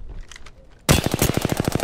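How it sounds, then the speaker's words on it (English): Rapid automatic gunfire from bots in the Apex Legends video game, a dense loud burst of evenly spaced shots starting abruptly after a quieter moment and continuing steadily. "Bots are shooting at me."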